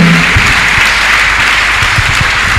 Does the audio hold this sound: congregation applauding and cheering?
yes